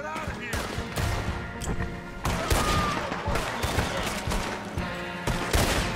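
Gunfire from the video game Red Dead Redemption 2: rapid, overlapping shots in a chaotic burst of repeated cracks and bangs, close and fairly loud, with voices talking and shouting underneath.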